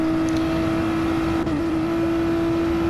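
A race car in Gran Turismo 7 drones at a steady high engine pitch while running in another car's slipstream, a constant loud whine with one brief dip midway.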